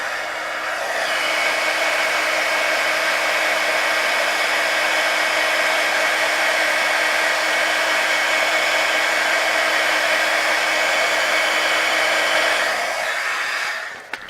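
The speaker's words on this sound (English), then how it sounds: "And then with your heat gun," Heat gun drying paint on a hat cap embellishment, a loud continuous blowing whir that switches on, runs steadily and then cuts off near the end, with no voices.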